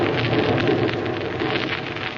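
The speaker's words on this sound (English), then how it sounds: "Listen to that rain on the roof." Steady, dense hiss of rain drumming on a roof as a radio drama sound effect, continuous and fairly loud with no speech over it.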